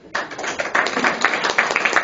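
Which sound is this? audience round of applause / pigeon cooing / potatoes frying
audience round of applause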